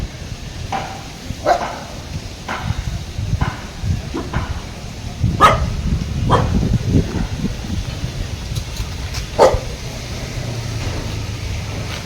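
Several dogs bark in short, separate bursts spread across the stretch, some fairly close and some farther off, over steady outdoor background noise, rustling and wind in a residential area of Tambaram.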